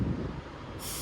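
A loud, steady hiss of air released from railway brakes over low rumbling, with a brighter burst of hiss rising near the end.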